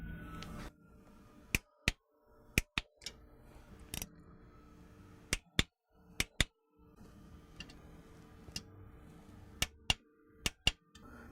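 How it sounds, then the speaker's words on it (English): Torque wrench clicking as bolts on a cast aluminum B&M Hi-Tek differential cover for an AAM 11.5 axle are tightened to 15 foot-pounds, a series of sharp, isolated clicks in small clusters against a quiet background. "We're going to go ahead and torque this thing down to 15 foot-pounds."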